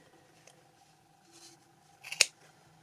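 Scissors snip through yarn while trimming a knitted pom-pom for baby booties, giving one sharp, close cut after faint handling rustles.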